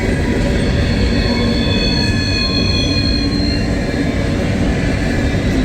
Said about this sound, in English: It's a mainly 3-bay hopper coal train, but there's a few non-3-bay hoppers.